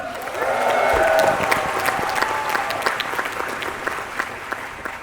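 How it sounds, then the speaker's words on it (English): Sustained applause from an audience at a Disney D23 Expo Marvel comics panel, steady clapping that swells early then continues evenly, with faint crowd murmur beneath. "So big round of applause for them."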